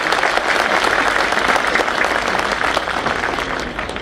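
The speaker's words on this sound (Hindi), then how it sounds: "एक बार ताली चेयरमैन और चीफ मिनिस्टर दोनों के लिए भाई" An audience at a bar council event at Tees Hazari claps for the chairman and chief minister, a steady, dense roar of applause from many hands holding loud and even throughout before easing slightly at the end.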